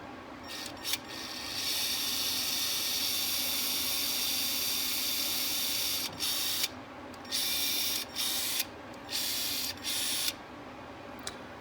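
A Milwaukee M12 caulk gun's brushed DC motor whirs through its gear reduction, a close, steady grinding whine that runs continuously, then stops and starts in several short bursts toward the end.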